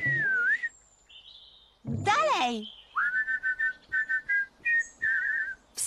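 Whistled melodic phrases from cartoon characters, a short sliding tune followed by a run of quick, even, repeated notes, close and clear, with a brief spoken word in between.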